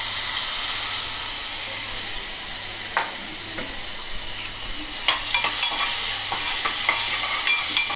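Onion, tomato and bay leaves fry in hot oil with a loud, steady hiss and sizzle, broken by scattered crackles and sharper pops toward the end, and no voices.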